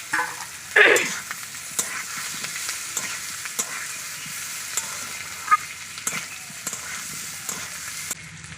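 Oil crackles and sizzles steadily in a pan as fried potatoes and pumpkin are stirred and scraped with a utensil, with a louder clatter near the start and occasional knocks.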